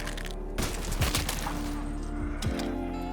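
Rapid gunfire bursts from a Black Ops 3 video game weapon, several sharp cracks in quick succession over a steady game background hum, loud and close.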